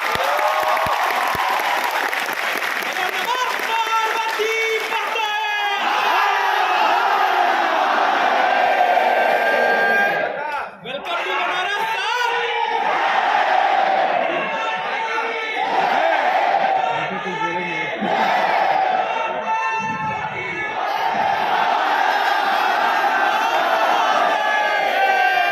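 A large audience at a public talk in Varanasi breaks into sustained loud applause mixed with cheers, whoops and shouted chants, a dense crowd roar that barely dips before swelling again.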